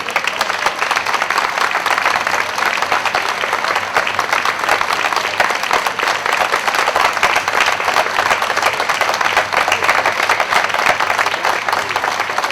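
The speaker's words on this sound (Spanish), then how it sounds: "Yo quiero un fuerte aplauso" Loud, sustained applause from a crowd at a Falange campaign closing rally, a thick continuous wash of many hands clapping with no break.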